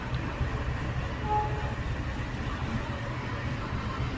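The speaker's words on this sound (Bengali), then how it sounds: "একটা ট্রেন ঢুকছে" A train pulling into a railway station platform, a continuous low rumble of wheels and carriages with a steady mid-level roar, fairly close, no talking.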